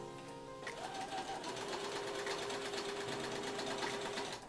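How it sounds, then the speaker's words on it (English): A sewing machine whirs steadily and loudly for the whole stretch, its motor pitch shifting as the running speed changes, with a rapid needle chatter throughout. "Is the sewing machine like ASMR, or is it like strange background noise?"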